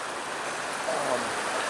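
A river riffle rushes with steady broadband water noise, near and fairly loud, with a faint voice briefly underneath.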